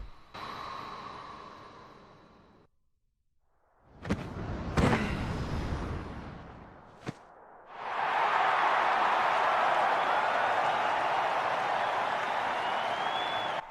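A crowd in a Kingdom Hearts Birth By Sleep cutscene breaks into a loud, steady cheer that holds for several seconds, following a quiet pause broken by a few sharp thuds.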